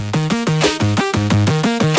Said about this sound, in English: That kind of crunchy bass lead kind of sound